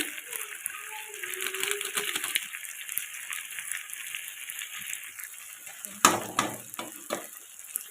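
Rita fish and tomato sizzle and fry in a pan with turmeric, cumin and chili powder, a steady hissing bed of frying noise with a few scraping clatters of stirring near the end, while someone speaks briefly.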